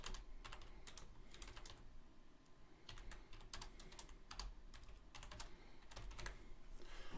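Keys clack on a computer keyboard in quick, uneven bursts of typing with short pauses between, close and fairly quiet, with no voice heard.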